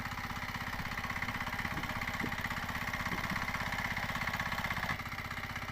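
A farm tractor runs steadily at a low, even throb near fields at the start of the rainy-season work in Adiste village. The engine note holds constant, with faint background sounds and no speech.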